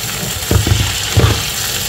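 Peppers, jalapeño and capsicum, sizzling in a pan as a spoon stirs them, with a few scraping strokes over a steady close frying hiss.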